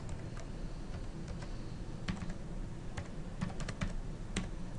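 Computer keyboard typing, soft and fairly quiet, in irregular bursts of clicking keystrokes with short pauses, no voices.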